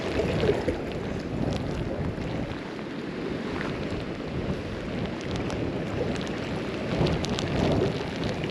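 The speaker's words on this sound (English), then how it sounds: "That wind, savage." Strong wind blows steadily outdoors beside the River Orchy during salmon fishing, a dense continuous roar that buffets close to the microphone for the whole stretch, with a few stronger gusts.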